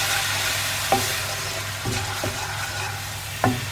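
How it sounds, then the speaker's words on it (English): Vegetable stock being stirred in a pan on the stove, a soft steady simmer under a few distinct spoon scrapes and knocks against the pan, close and fairly quiet with no voices. "You can give that a quick stir so it doesn't catch."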